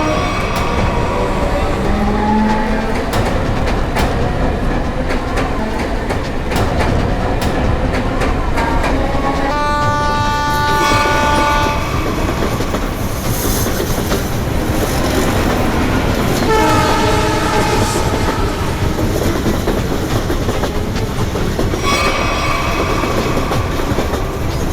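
A train rumbles loudly past with a continuous rolling clatter of wagons on rails, and its horn sounds in several long blasts partway through.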